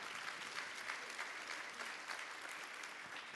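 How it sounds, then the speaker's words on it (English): Part of a conference audience claps, a steady, somewhat distant patter of applause without speech, fairly faint and even throughout. "half the room's clapping and half the room's not clapping"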